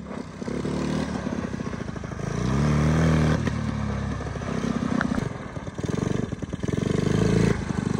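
A 1985 Honda ATC 110 three-wheeler's small engine revs unevenly nearby, surging and dropping with rattling clatter, never reaching full revs.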